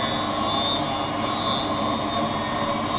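A lens edging machine grinds a safety bevel onto the concave rear surface of a Ray-Ban Wayfarer lens with a small spinning wheel, giving a steady, loud, high whining drone without pauses.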